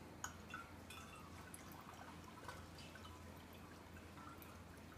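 Microalgae culture poured into a bottle, a soft steady trickle and drip of liquid, faint and fairly quiet throughout with a small splash near the start.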